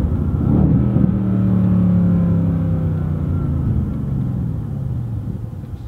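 A Mercedes-AMG C63S V8 engine downshifts, with a loud blip and rev surge early on, then settles into a descending, burbling drone that fades gradually.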